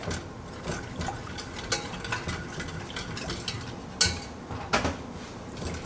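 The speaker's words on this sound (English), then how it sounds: "We're going to whisk this all together." Teriyaki sauce of rice vinegar, sesame oil and garlic whisked in a bowl, with repeated close clinks and scrapes of metal against the bowl and light sloshing of liquid, no voices.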